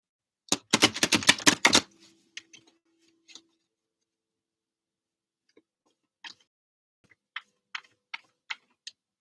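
A quick burst of tarot cards being shuffled, a rapid flurry of close riffling clicks, followed by quiet and a few scattered soft taps and flicks of cards.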